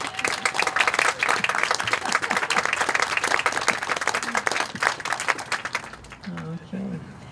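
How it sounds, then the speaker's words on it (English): A crowd at an outdoor monument dedication commemorating the April 19, 1775 alarm bursts into dense, lively applause that holds for several seconds, then fades as a voice begins speaking near the end. "could we just, right at the beginning, give him a little applause?"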